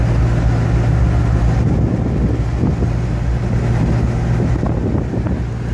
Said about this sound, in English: As you can see, when it's cruising, it's pretty quiet, you know.